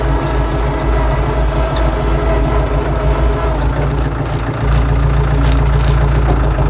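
A car engine runs steadily in rear-wheel drive, a loud, continuous low rumble with a slight dip partway through and no talking over it.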